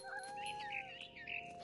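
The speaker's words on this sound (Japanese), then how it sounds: "猫になって鳥を追い回すゲーム。" A cat in What Remains of Edith Finch, a video game about being a cat chasing birds, gives a drawn-out, wavering meow that rises and falls over about a second and a half, clear and close.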